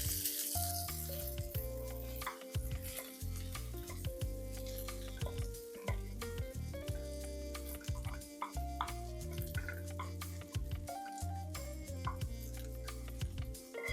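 Rice being stirred with chicken bouillon in a pot, a steady low simmering sizzle with soft scraping and clicking stir strokes throughout, close and continuous.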